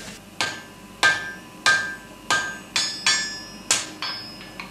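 Heavy blacksmith's hammer blows ring out on metal, about eight sharp strikes at a steady, unhurried pace, each leaving a short metallic ring.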